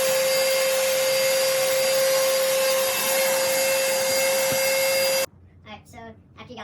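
Vacuum cleaner fitted with a scraper attachment running on car floor mats, a loud steady whine with faint rubbing, cutting off abruptly near the end before a person starts talking.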